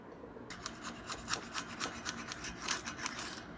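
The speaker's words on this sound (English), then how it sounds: "I'm cleaning the paint off of the inside flange of the adapter" Repeated rasping scrapes as paint is cleaned off the inside flange of an aluminum wheel adapter on a 2000 Chevy dually, a steady series of close, short strokes with no talk.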